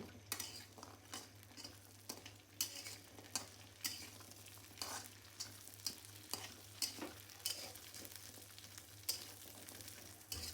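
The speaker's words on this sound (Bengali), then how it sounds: "বড়িগুলো হালকা ভেজে নেব কুমড়োর বড়ি" Pumpkin badi fry lightly in a pan, a faint sizzle under repeated rhythmic scrapes and taps of a spatula against the pan, close and unaccompanied by speech.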